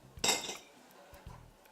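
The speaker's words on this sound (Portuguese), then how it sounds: "Então eu vou pegar aqui uma panela pequena" A small metal pan clanks as it is lifted in a home kitchen, one bright ringing clatter that fades quickly, then a faint knock.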